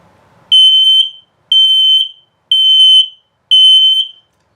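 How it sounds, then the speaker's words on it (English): A combined LP and carbon monoxide detector in a 2022 CrossRoads Sunset Trail 222RB travel trailer beeps in test mode, four loud shrill even tones about a second apart with short gaps between them and no voices. "LP is good, carbon monoxide coming up. And then, of course, the low battery alert."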